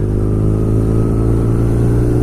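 A BMW R nineT Scrambler motorcycle engine runs close and loud in a steady, throbbing drone with rich low harmonics and no talk.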